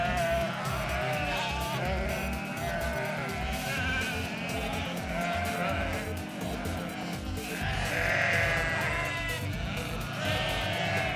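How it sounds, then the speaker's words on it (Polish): A flock of sheep crowds around a parked camper on a Romanian mountain road, many overlapping bleats rising and falling close by and from all sides, steady and loud throughout with no talk. "Owce otaczają nas ze wszystkich stron."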